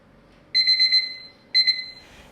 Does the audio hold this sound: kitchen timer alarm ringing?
yes